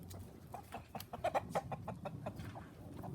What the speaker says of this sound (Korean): 닭들이 그냥 자유롭게 행보를 하고 있는데요